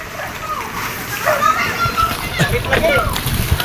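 Water splashes and sloshes from a hose onto a fire at a small hut, with excited shouting voices over the top throughout.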